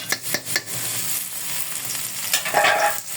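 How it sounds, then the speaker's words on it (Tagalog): Garlic sautés in oil for chicken adobo, a dense close sizzle and crackle with a few stirring scrapes at the start, loud and continuous without talk. "Isa na natin igisa itong ating bawang."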